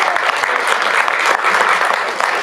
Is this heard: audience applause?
yes